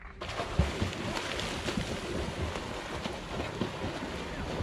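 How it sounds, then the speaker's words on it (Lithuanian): Water laps and washes at thermal Lake Vouliagmeni on the sea shore near Athens, a steady outdoor wash of small waves with wind buffeting the microphone and an occasional soft thump. "Čia yra terminis ežeras prie pat jūros kranto."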